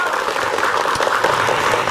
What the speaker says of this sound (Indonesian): Boleh tepuk tangan yuk.